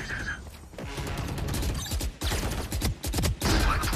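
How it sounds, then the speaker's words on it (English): Valorant's swarm grenade goes off in a string of loud, crackling explosive pops and bangs, with clusters of blasts separated by short gaps over several seconds and busy game noise around them. "Swarm grenade out."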